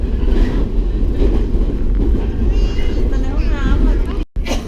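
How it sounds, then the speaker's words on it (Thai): A train rumbling steadily along the rails in Japan, with a low continuous roar and people talking over it, cutting out abruptly near the end as the train stops. "อีนุ้ยเมื่อกี้เกิดอะไรขึ้นคะ รถไฟหยุดเนี่ย"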